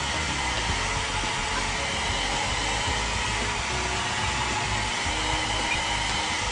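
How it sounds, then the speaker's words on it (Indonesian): A hair dryer drying screen printing ink on a printing screen blows with a steady, loud, unbroken whoosh close up, with no talk. "kemudian kita keringkan dengan hair dryer."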